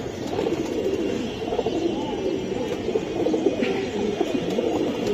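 Silver Giribaz pigeons cooing, soft repeated low coos close by over a busy background, with some faint voices.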